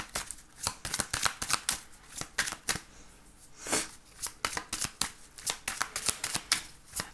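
Tarot cards are shuffled by hand in a quick series of crisp riffling and slapping bursts, close and fairly loud, with brief pauses between rounds and no talk over them.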